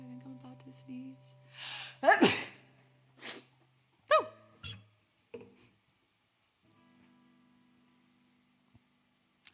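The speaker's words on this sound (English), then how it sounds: "think I'm about to sneeze." A person's sneeze bursts out as a couple of sharp, breathy blasts over a low humming tone, followed by a few quieter gasps and breaths before the room falls nearly silent.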